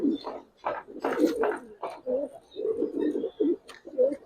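Giribaz pigeons coo in a steady run of soft, low, throaty phrases with brief pauses, close by and with no talking over them.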